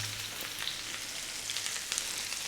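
Onion and garlic sizzle steadily in a hot pan, a dense, even frying hiss with small crackling spikes throughout, close and alone with no talking.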